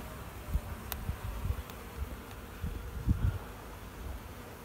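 Honey bees buzz faintly over hive frames during queen introduction work, a soft steady hum with occasional louder low bursts close by and no talking.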